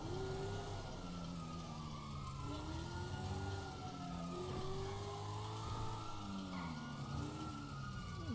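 A police siren from the GTA 5 video game wails in steady rising and falling sweeps for the whole stretch, loud and continuous over a low rumble of in-game traffic.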